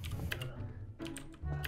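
Computer keyboard typing at home during a Garry's Mod hide-and-seek gaming session, a quick burst of close clicking keystrokes with brief pauses over a low background hum.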